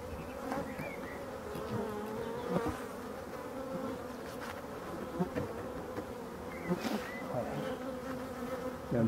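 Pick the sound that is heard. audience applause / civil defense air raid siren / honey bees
honey bees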